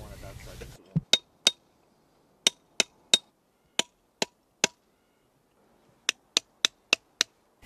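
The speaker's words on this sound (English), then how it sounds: "We then extracted small blocks directly from the outcrop and then split them using chisels and hammers." Metal chisels and hammers strike fossil-bearing rock blocks pulled from an outcrop, sharp isolated clinks in irregular bursts of two to five, close and clear in near silence after a brief stretch of talk at the start.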